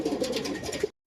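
Pigeons in their coop give a short run of soft, low cooing, close and fairly quiet, ending abruptly in silence.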